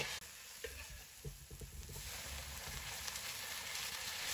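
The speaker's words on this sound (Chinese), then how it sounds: "再把白菜叶加进来，大火继续翻炒。" Chinese cabbage leaves stir-fry in a wok over high heat, a constant hissing sizzle with a few scraping and tossing knocks early on, close but fairly soft.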